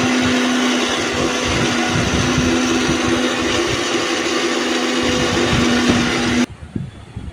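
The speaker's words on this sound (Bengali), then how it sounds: "চিকেনটা প্রথমে মিক্সিতে পেস্ট করে নেব" A kitchen mixer grinder whirs steadily and loudly as it grinds boneless chicken to a paste, a constant motor drone with a steady hum that cuts off abruptly near the end, leaving brief quiet handling noises.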